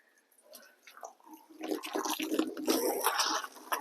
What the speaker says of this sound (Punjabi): ਇਹਨੂੰ ਪਾਣੀ ਮਾਰ ਦੇਣਾ